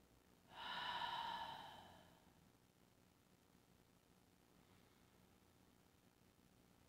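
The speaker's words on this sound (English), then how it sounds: "Just taking a big breath in, letting it out with a sigh" A single deep belly breath in a quiet meditation setting: a soft, airy inhale or exhale swells for about a second and fades into faint background hiss.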